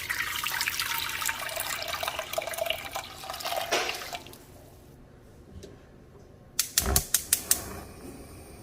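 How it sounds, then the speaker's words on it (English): Three cups of water poured into a pot to start coconut atole, a rushing, splashy pour lasting several seconds, then quiet followed by a few sharp clinks of a container, close and with no talking. "to start this atole de coco, I'm going to go in with 3 cups of water."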